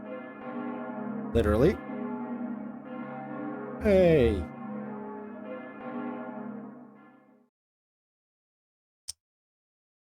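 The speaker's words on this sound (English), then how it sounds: "everyone's hearing the bells today" A video-game bell rings with a sustained, resonant tone and layered overtones for about seven seconds, then fades to silence; two short voice bursts cut in over the ringing.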